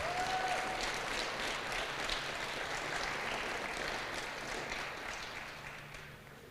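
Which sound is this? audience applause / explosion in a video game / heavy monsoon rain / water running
audience applause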